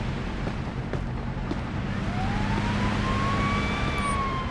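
A siren wails with a rising and falling tone inside a police simulator video game, heard fairly faintly over a steady engine and road rumble.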